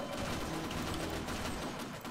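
Gunfire in the co-op shooter Sven Co-op, a Half-Life mod. Rapid automatic fire keeps up a dense, continuous rattle that fills the whole short stretch at an even loudness.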